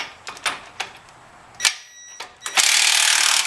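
A Ryobi One+ impact wrench works a second strut bolt on a 2014 Ford Fusion. A few short, sharp clacks and taps come first, then a loud, steady hammering rattle starts and runs to the end.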